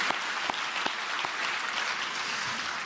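An audience at a national elders' retreat in a Korean church applauds a male elders' vocal ensemble, a steady dense clapping with a few sharper claps standing out, moderately loud and without talk.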